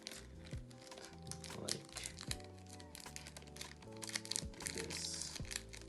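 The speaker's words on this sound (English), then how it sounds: "now all we have to do is apply tape onto it" Tape crinkles and crunches as it is applied over a balloon while building a balloon-powered car for a physics project, with short crackling bursts and rustles spread through the clip and a brief spoken word.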